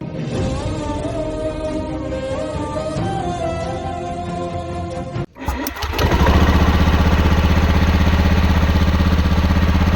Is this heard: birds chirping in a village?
no